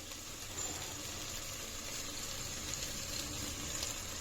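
Water pours into a cooking pan of cauliflower and peas with a soft, steady hiss, faint and continuous throughout.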